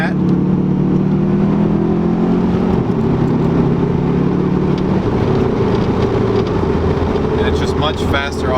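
A car's engine is held against the brakes in second gear for a brake boost, a loud, steady droning roar that climbs slightly in pitch, close and continuous, with a voice speaking briefly over it.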